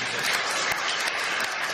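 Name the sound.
church congregation applause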